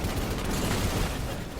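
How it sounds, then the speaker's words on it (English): Rapid Hammerhead machine gun fire in a solo Destiny 2 Nightfall, a dense, continuous burst of shots with muffled booms, loud and close for under two seconds, no talking. "Since we have a lot of Hammerhead ammo, we're going to spam that."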